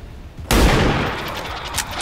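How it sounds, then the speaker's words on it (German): A flanking gunshot in the video game X-COM 2, a sudden loud burst of gunfire after a quiet moment, trailing off into a noisy decay. "jetzt hat er einen geflankten Schuss von Plastiklöffel"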